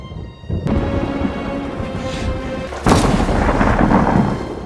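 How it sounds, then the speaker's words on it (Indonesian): Thunder rolls through a thunderstorm with rain, beginning as a low rumble and then breaking into a sudden loud crack that spreads into a broad, crackling roar before slowly fading. "Saat badai petir berlangsung"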